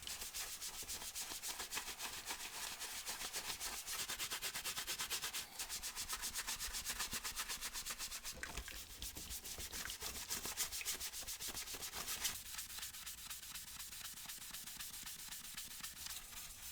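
A paintbrush scrubs an SNES controller shell in hot soapy water, giving a continuous, fast bristly rubbing that stays soft and even throughout with no voices.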